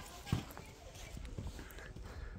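A long-legged foal from Rostov walking, its hooves giving a few soft, scattered clip-clop thuds that sit faint and distant against a low background hum.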